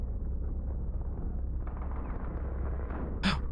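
Sim-style horror roguelite Empty Shell: a low, steady rumbling ambience runs throughout, broken near the end by a single sharp, loud gunshot burst.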